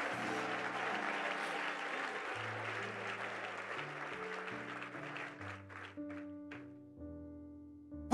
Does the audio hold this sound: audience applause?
yes